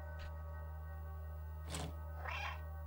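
A cat meows twice, faint and short. The second call is a bent, wavering mew, and both sit over a constant low electrical hum.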